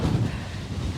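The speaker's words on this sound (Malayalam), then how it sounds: "കാറ്റ് നമ്മളെ കൊണ്ട് പോകുന്നുണ്ട്" Strong gusts at the Ilaveezhapoonchira hilltop viewpoint roar across the microphone as a continuous, loud low rumble of buffeting wind, with no voices.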